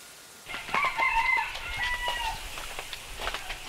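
Vietnamese native chickens at Gò Công, with a rooster crowing a long, loud call near at hand among scattered clucks from the flock, no voices.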